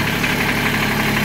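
A three-cylinder engine idles with a steady low throbbing hum and slight knock, close and loud with no voices; only the idling is heard, with no start.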